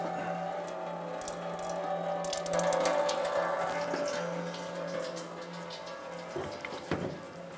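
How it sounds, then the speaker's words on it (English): Coolant drains from the radiator of a 1994-2004 Chevrolet S-10 into a drain pan below. It makes a steady, close, trickling and splashing pour, with a few louder drips and splashes near the end. "Let the system drain out."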